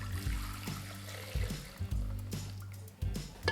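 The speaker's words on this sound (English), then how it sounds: "I'm going to pour in about 1 liter of water" Water pours from a tap into a Thermomix bowl, a close, continuous splashing fill broken by a few brief clunks and pauses, with no talking.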